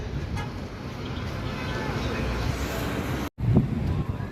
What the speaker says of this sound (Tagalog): Sa ngayon mahangin po dito sa taas ng Binondo Intramuros Bridge